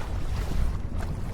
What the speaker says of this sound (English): Definitely windier than was forecast